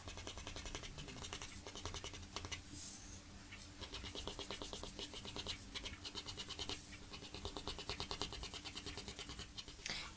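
Pencil strokes on paper drawing rabbit fur: steady, close, rapid scratching in quick repeated rhythmic bursts, soft and continuous with no talking.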